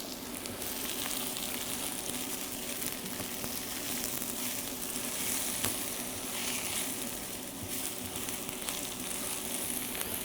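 Freshly sliced mushrooms sizzle with onions in olive oil in a pan, a steady, close crackling hiss that continues without talk.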